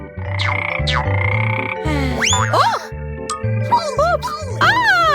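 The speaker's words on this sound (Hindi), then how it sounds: "वाह, यहाँ एक मेंढक है।" Rhythmic, bouncy frog croaks repeat close up alongside warbling chirpy calls, steady and fairly loud throughout.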